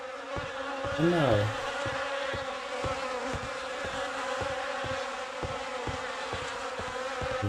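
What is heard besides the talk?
insects buzzing in video game The Fidelio Incident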